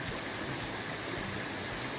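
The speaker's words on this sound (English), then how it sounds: "This is Brown Mountain Creek." Brown Mountain Creek flows beside the Appalachian Trail in Virginia, giving a constant broadband rushing burble with no voices. The sound is moderately close and even throughout.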